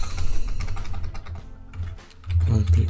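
Quick rattling keystrokes on a computer keyboard as a short network command is entered, close and clicky with a brief pause midway.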